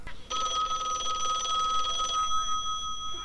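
A telephone bell rings in a continuous electronic trill, clear and steady for about two seconds before cutting off, then fading tones linger.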